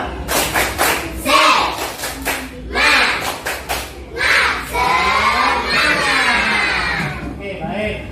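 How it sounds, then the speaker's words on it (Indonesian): Standing schoolchildren perform the tepuk semangat clapping chant in a classroom, rhythmic bursts of group claps alternating with loud shouted chanting voices, close and energetic over about eight seconds. "mari kita tepuk semangat 3 kali"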